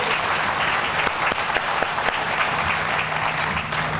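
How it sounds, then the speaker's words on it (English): A large audience at an airport groundbreaking ceremony gives dense, continuous applause at a steady level, with a few sharper claps standing out from the roar. "Let's give him another round of applause"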